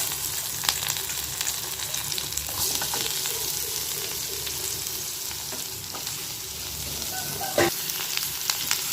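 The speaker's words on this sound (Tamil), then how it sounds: "இப்போ கேரட்டை நல்லா வதக்கிக்கலாம்" Carrots sautéing in a pan with curry leaves for a carrot poriyal give a steady close sizzle and frying hiss, with occasional scraping stirs and a sharper clatter near the end.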